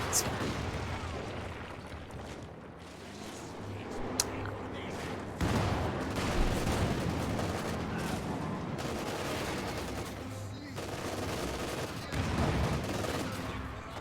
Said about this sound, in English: HQ is being shelled from this direction.